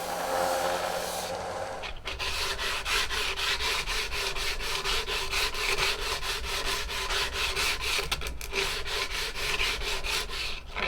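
Steady, rhythmic sanding of a wooden walking stick, a continuous close scratchy rubbing with regular back-and-forth strokes and a brief pause near the start.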